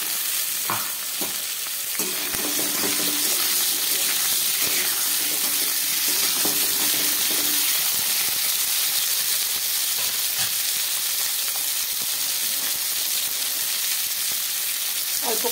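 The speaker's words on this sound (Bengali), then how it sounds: "আর আলু শিমটাও ভেজে নেব।" Potatoes and flat beans fry in a pan over a medium gas flame, giving a loud continuous sizzle and hiss with occasional stirring scrapes, and no pause throughout.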